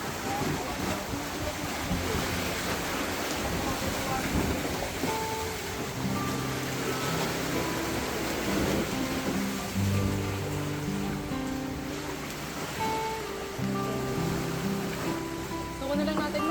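Large sea waves wash into a house, rushing water and surf churning steadily throughout, with muffled voices and household clatter mixed in, the wash of waves close and continuous.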